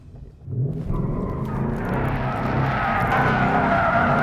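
A 2018 Ford Mustang RTR drifts with its tires skidding, a loud, rising squeal and roar of engine and rubber that builds after a brief quieter start and holds steady to the end.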